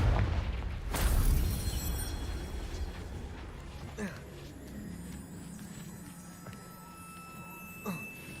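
A Confringo blasting spell explodes in the Hogwarts Legacy video game: a loud, sharp burst early on swells into a rumbling roar, followed by a few smaller thuds and pops, with a voice talking over the game.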